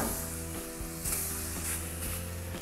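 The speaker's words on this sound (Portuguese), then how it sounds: "Enquanto o hambúrguer vai grelhando" Beef rib burgers sizzling on a griddle in bacon fat, a soft steady hiss and crackle beneath a background musical tone, fairly faint and continuous.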